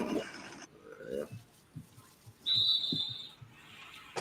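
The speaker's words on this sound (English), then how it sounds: "You hear the whistle keep going off" A referee's whistle sounding during a televised match, a brief shrill blast heard fairly clearly amid quiet background noise and scattered voices.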